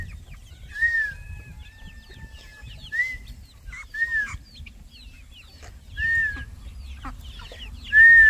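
Hens and roosters in a backyard chicken pen give several short clucks and calls at irregular moments, moderately close, over a low murmur of farm noise, with one louder call near the end.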